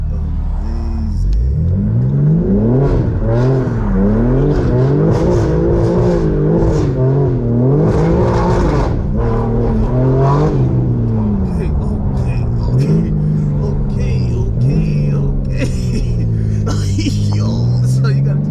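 A straight-piped BMW G82 M4 on a cold day, its exhaust revving up and down in a loud, wavering roar that runs the whole time, with voices talking over it.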